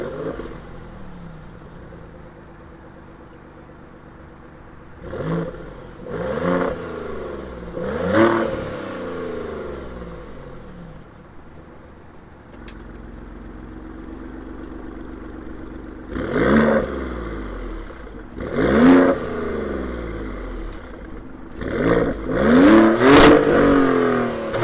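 A 2023 Maserati Grecale Trofeo sports SUV revs through its quad tip exhaust, with several sharp throttle blips rising and falling over a steady idle, heard fairly close in a short series of bursts.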